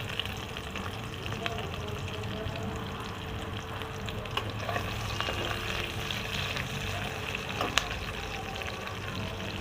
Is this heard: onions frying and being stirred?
yes